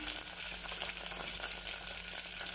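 Chopped green chillies sizzle in hot coconut oil in a clay pot, a soft, even hiss with light crackling that runs unbroken and fairly quiet.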